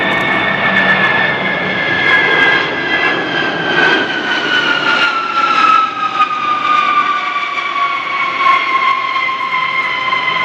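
A Lockheed C-5 Galaxy cargo jet flies past at an airshow, its engines roaring loudly with a steady high whine that slowly falls in pitch as it passes.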